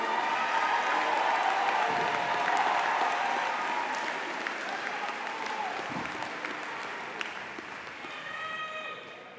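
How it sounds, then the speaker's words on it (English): A high school graduation audience claps in sustained applause, strong at first and gradually tapering off, with a few scattered voices in the crowd. "Let's give Leslie another round of applause, please."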